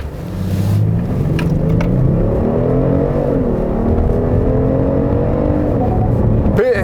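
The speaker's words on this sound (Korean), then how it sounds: "드라이브 모드를 스포츠에 두고 급가속을 한번 해보겠습니다" A Kia K9 3.3 turbo AWD in sport mode accelerates hard, its loud engine note climbing in pitch through successive gears, with a brief sharp noise at the very end.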